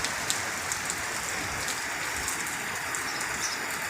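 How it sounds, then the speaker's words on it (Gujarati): Heavy monsoon rain falls steadily in the Gir area near Dhari, Amreli, a dense continuous patter of drops on surfaces with no voices, even in level from start to finish. "ગાંડી ગીરમાં વરસાદની બટાસટી બોલતી હોય"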